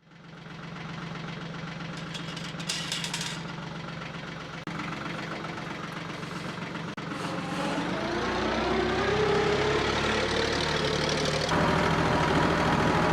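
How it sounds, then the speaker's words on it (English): A tractor engine runs slowly on a cold morning at a low, labored idle, loud and close, with a steady rumble that grows slightly rougher toward the end. "Tractor's running a little slow this morning."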